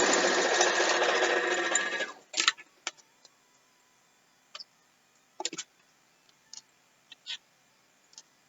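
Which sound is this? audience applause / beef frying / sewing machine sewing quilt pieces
sewing machine sewing quilt pieces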